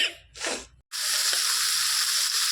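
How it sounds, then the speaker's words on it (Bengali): Small fish sizzle loudly after being dropped into a hot pan (kadai) of oil, a steady, close frying hiss following a brief rustle of handling. "আগে ছোটো মাছটা ভেজে নিই তারপরে বড় মাছটা ভেজে নেব"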